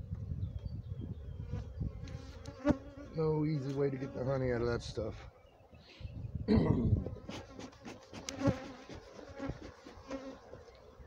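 Honeybees buzz steadily around a hive in a bee yard, close and loud, while someone talks over the droning hum.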